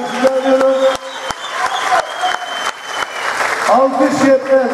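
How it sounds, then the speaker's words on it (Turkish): Audience applause at a youth centre theatre ceremony, steady dense clapping filling the room with a speaking voice partly audible over it. "Gençlik Merkezi liderlerinin hepsine de bir alkış rica ediyorum"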